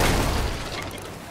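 A loud, broadband blast with a heavy low-end boom that fades gradually over about a second: a blast ball explosion in the game Sea of Thieves.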